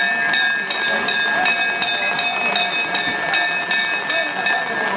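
A chapel bell rings steadily on a wet, rainy day, bright sustained overtones struck repeatedly in an even rhythm against a constant background wash.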